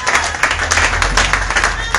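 A church congregation applauds with loud, dense, sustained clapping close by, with voices mixed into the noise.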